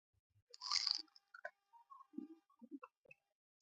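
Crunchy bites and chewing of a fried South Indian tea-stall snack such as vada, close to the mic and fairly quiet: one louder crunch, then scattered soft chewing clicks and mouth noises in a quiet room.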